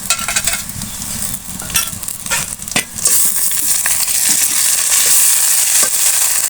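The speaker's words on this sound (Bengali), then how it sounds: "এরপর যে আমি দিয়ে দিচ্ছি আদা পেস্ট রসুন এবং জিরা" Ginger paste, garlic and cumin frying in a hot pan for a chicken dish, stirred briskly: a loud, continuous sizzle with scraping stir strokes that swells into a steadier, brighter hiss halfway through.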